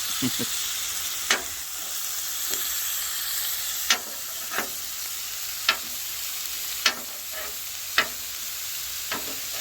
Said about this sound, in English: let's put our tomatoes on. These have a little bit of juice, I'll let them cook off